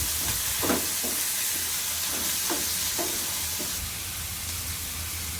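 Tomato and coriander leaves fry in a pan with a steady, close sizzle and hiss, broken by a few soft stirring scrapes; no one speaks.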